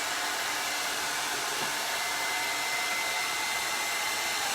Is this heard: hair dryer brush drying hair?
yes